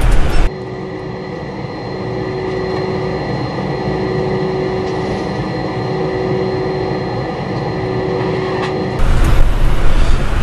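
Sukhoi Superjet airliner engines winding down after parking, heard from the cockpit as a steady broad roar with faint tonal whine, ending in a sudden louder burst of noise near the end.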